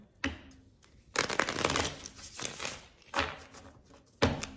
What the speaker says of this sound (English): Just gonna do one shuffle.